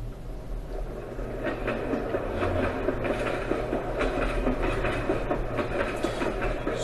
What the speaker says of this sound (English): This is a train passing in the background.